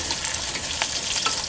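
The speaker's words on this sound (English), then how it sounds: "So like I'll fry the onions and garlic for a few minutes" Onions and garlic frying in a pan, a steady dense sizzle that holds throughout with a couple of brief louder spits, close up and with no voices.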